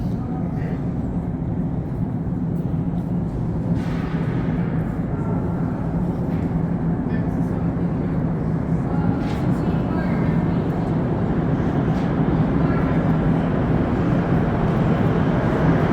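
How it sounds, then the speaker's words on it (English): A Montreal Metro MR-73 train rumbles steadily through a tunnel into a station, a constant deep roar of wheels and motors that grows slightly stronger as it approaches. "I hear the train now coming into the station through the tunnel"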